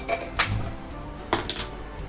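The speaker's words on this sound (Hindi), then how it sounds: "कढ़ाई रख देंगे उस पर।" Metal kadhai wok set down on a gas stove in a home kitchen, a few distinct clanks and clinks of metal on the burner grate, close and sharp against a quiet background.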